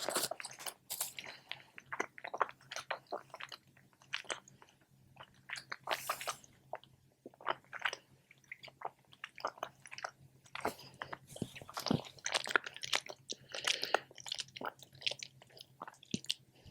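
Pale yellow chewy fruity candies being chewed up close, with soft sticky squishes and crunchy bites in a steady, uneven rhythm and no talking.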